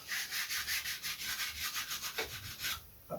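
Sanding block rubbed over a model aircraft's top wing covered in green solar film, a quiet, rhythmic back-and-forth scratching of about a dozen even strokes, close and alone.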